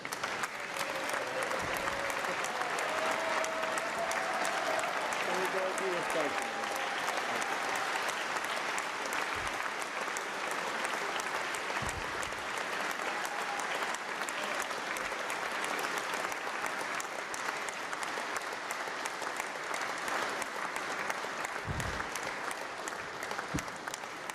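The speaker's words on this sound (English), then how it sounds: "you got to quit this clapping so much" An audience at the West Virginia State of the State address in 2017 applauds for the governor, a sustained, dense, loud clapping that continues steadily for over twenty seconds.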